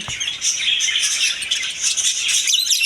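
Cage birds, including Australian doves, chirp and call continuously in a shop aviary, a dense layer of high twittering close by with no voices.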